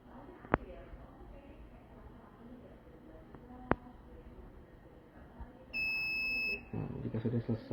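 An Infitek CFGR-15D centrifuge gives a steady electronic beep for under a second as its run finishes, followed by low rumbling; two sharp clicks come earlier against quiet background hum.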